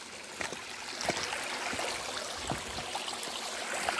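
A woodland stream flows steadily downstream, its broadband rush and trickle continuous with small splashes and gurgles throughout.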